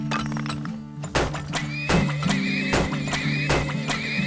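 Horses whinny and neigh repeatedly in the video game Turmoil, loud, clear calls layered over steady in-game music with a few thunking clicks.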